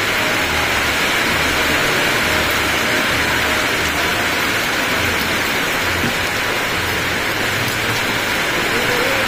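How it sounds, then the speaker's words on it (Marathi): Rain falls steadily in bright sunshine, a dense, even hiss of drops continuing at constant loudness throughout with no voices. "तर कडक उन्हात पाऊस सुरू झाला"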